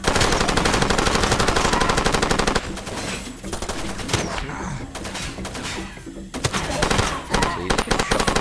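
Sustained automatic gunfire from the video game Far Cry 2, loud and dense rapid bursts filling the first few seconds, then scattered shots and crashes continuing until the end.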